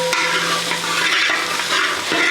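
Crushed ginger and garlic frying in hot oil, a steady close sizzle with light stirring scrapes throughout, no voices.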